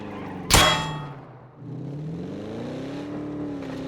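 A car engine in the PUBG video game, opened by a sharp metallic clang, then a low hum that rises into a steady, climbing rev.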